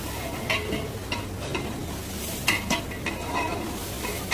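Chicken biryani masala sizzles steadily in a pan while a spoon stirs it, scraping and clinking against the metal in irregular strokes close by.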